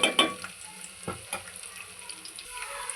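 Onions fry in hot oil with a steady sizzle, close and fairly loud, while utensil scrapes and stirring knocks break through now and then. No one speaks.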